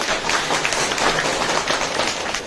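A village crowd gathered for a health awareness visit gives a round of applause, with many hands clapping in a dense, continuous patter that holds at an even, fairly loud level.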